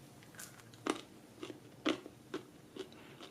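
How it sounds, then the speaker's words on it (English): Crunchy French fries cooked in a Farberware air fryer crackle as they are bitten and chewed up close, giving several sharp, separate crunches spaced out over a few seconds in a quiet room. "I hope you can hear that crunch. It is crunchy."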